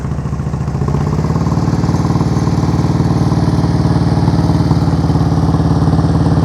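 A motorcycle engine runs steadily during slow-speed riding practice, a close, loud, even drone with a rapid pulsing beat that picks up slightly after the first second.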